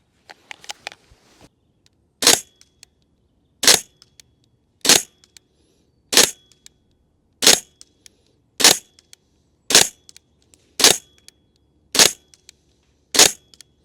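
A C-Tech GBLS L119A2 airsoft rifle fires BBs at a 20 metre target outdoors, ten sharp single shots spaced about a second apart, each a crisp crack with faint target impacts between.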